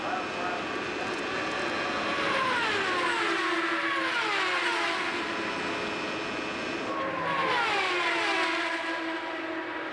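Indy 500 race cars racing on the track, engines screaming past in successive Doppler sweeps that rise and fall, loud and close, with a commentator talking over them.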